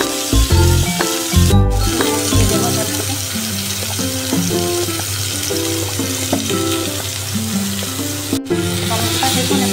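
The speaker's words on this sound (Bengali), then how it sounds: "বাদামটা দেখুন একটু ভাজা ভাজা হয়ে এসছে" Peanuts sizzle and crackle in a hot pan while being roasted for an idli chutney, a steady close frying hiss running the whole time with tonal background sounds layered over it.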